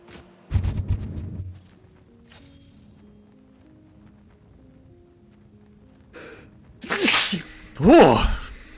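A single person sneezes, with a small breathy sound early on, followed by a sharp gasping intake and a loud, close sneeze near the end, over quiet background tones from a game.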